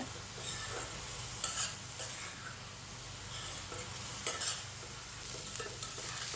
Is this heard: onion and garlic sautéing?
yes